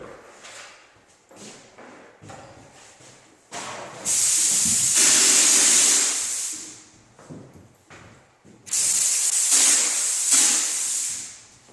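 Orange peel wall texture is blown onto room walls with a spray rig, producing two long, loud, steady hissing bursts, with quieter clunks and handling sounds before and between them.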